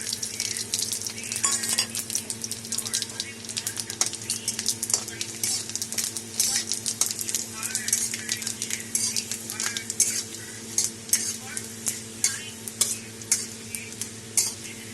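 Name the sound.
dried chillies, bay leaves, cumin and fenugreek sizzling in oil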